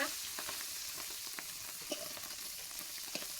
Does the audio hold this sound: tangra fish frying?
yes